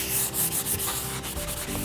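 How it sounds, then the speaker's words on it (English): A 500-grit sanding pad is scuffed back and forth across a high-gloss painted piece, giving a close, steady abrasive rubbing with several quick strokes and no talking. "I'm going to take my sanding pad, it's about a 500 grit, and I'm simply going to pass it across a few times."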